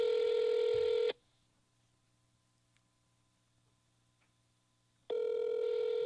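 An outgoing telephone call ringing on the line, a steady electronic tone of about one second, then four seconds of near silence, then the tone again, clear and close.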